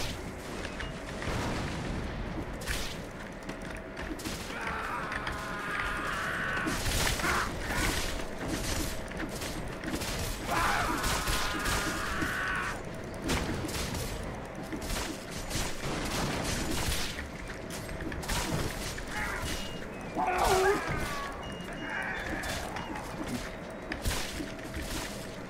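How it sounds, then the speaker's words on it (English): Explosions and volleys of musket and cannon fire in the Napoleonic-era video game Guts and Blackpowder, repeated sharp cracks and booms spread through the clip over a constant battle din, with voices heard faintly in the mix. "I like those little explosion effects."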